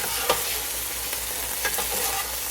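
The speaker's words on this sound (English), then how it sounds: "I can kind of reduce the sauce down as I turn it" Casserole sauce on a flat griddle for an Amish country casserole, reducing with a constant bright sizzle, with a few faint scraping turns of a spatula, steady and close, no one speaking.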